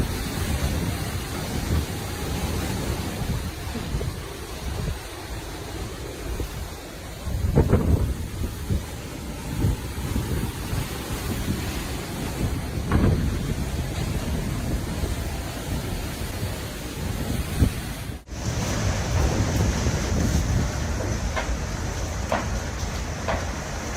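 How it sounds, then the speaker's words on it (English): Storm at sea heard from aboard a cruise ship: steady roar of wind and rain with occasional low thunder-like rumbles and a brief sharp thud, continuous throughout with no talking. "This is what it's like being on a cruise ship during a storm."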